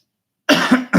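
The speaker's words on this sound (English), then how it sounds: "trying to shake this cough." A couple of quick, harsh coughs, close and loud, after a moment of silence.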